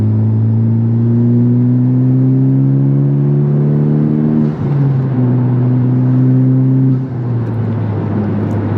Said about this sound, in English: It's really cool how sometimes you can hear VTEC kick in.